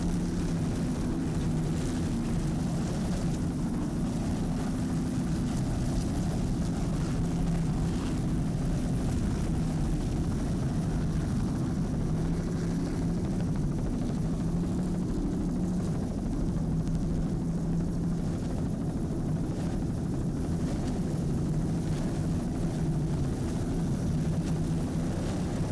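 Offshore racing boat, a 30-foot Sutphen, throttling hard in rough water off Cape Cod, a continuous loud engine roar that swells and eases with the throttle for the whole stretch, no voices.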